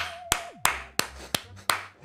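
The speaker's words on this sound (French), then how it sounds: "Oh, j'applaudis." Hands clap six times in a steady, evenly spaced rhythm, each clap sharp and close, inside the space survival game 60 Parsecs with faint game sounds between.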